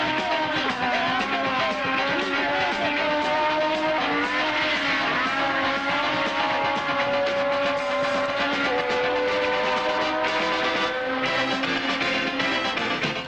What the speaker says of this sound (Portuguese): Vai vagarosamente a Ferrari de Ickx